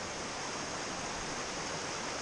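A creek in the Great Smoky Mountains rushes steadily as a dense, even, broadband wash of flowing water, close and constant, with no voices.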